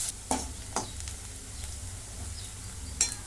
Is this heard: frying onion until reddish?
yes